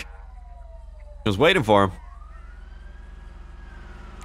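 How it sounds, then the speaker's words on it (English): In a police driving video game, a siren wails faintly in the distance as a fire truck or police car approaches, a thin rising tone over a steady engine hum. Someone speaks briefly in the middle. "I either hear a fire truck or more police officers coming out that way."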